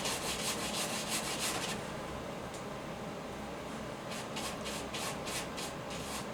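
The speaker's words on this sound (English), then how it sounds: "Just rub. Use both sides of the brush." A paintbrush rubs back and forth on a painting surface in quick scratchy strokes, faint and close, with a bursty group at the start and another near the end over a low steady background hum.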